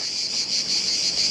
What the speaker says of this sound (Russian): Послушаем цикад.